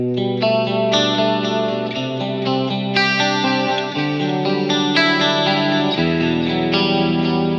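A clean electric guitar through a Mesa Boogie Mark VII amp rings out chords and arpeggiated notes with a shimmering, chorus-like sheen, continuous and full, with no voices.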